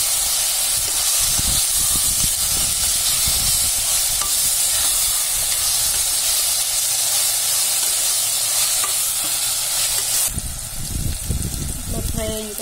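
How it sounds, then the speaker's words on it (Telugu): Masala for mutton tahari fries and is stirred in a pan, a steady loud sizzle and hiss with scraping stirring strokes throughout, easing slightly near the end. "ఇది కూడా బాగా కలుపుకోవాలి. పచ్చివాసన పోయేంత వరకు ఫ్రై చేసుకోవాలి."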